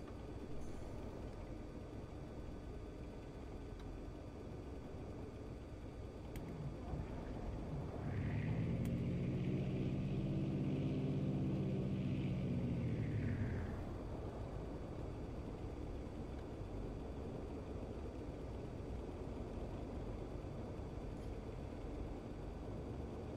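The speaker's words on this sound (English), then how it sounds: "Second engine start." The second engine of an aircraft in X-Plane 11 starting up, a rising hum that swells and holds steady for several seconds over a constant droning background, then settles back.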